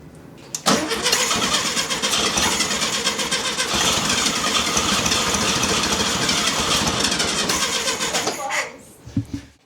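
A VW Beetle engine with a carburetor that has sat unused cranks and sputters, then roars loudly and roughly for several seconds before cutting out, with voices talking nearby.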